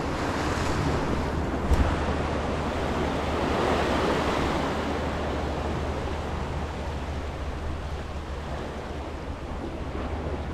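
Ocean surf breaking steadily on a shore, a continuous broad wash of waves with wind noise buffeting the microphone, loud and close with no voices.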